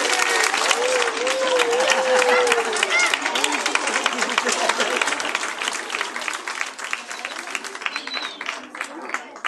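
An audience at a slam poetry workshop with children and parents applauds loudly and continuously, a thick wash of clapping with voices cheering faintly underneath throughout.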